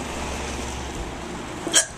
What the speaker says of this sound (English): I just have hiccups.